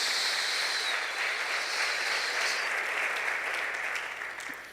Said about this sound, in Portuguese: Dá para aplaudir ao Senhor, dá?